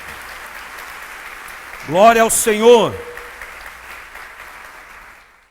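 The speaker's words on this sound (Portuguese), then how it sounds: "Dê mais um aplauso ao Senhor." A church congregation applauds with a steady, sustained patter of clapping, and a voice briefly calls out over it midway before the clapping fades away.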